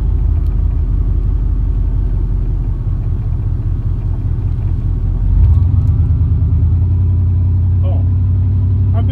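Scrap-hauling truck driving in traffic, its engine a loud, steady low rumble close by that swells slightly midway as it pulls ahead, with no talking over it.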